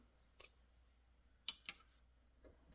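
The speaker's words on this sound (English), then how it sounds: "I'm going to fold that back onto itself and then just trim off the excess." Scissors snipping ivory burlap string, three or four short crisp cuts spaced apart, close and fairly quiet with no talk.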